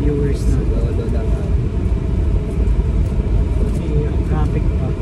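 Dense urban road traffic in a rush-hour jam, a steady low rumble of engines and tyres filling the whole stretch with occasional higher horn-like or brake squeals, close around a car while people talk.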